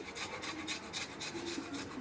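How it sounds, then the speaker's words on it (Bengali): Fresh ginger is rubbed against a grater for a spice mix, giving quiet rhythmic rasping strokes in a steady back-and-forth pattern, close up and with no talking. "এরপর আমি মশলার জন্য আদাটাকে ঘষে নিচ্ছি।"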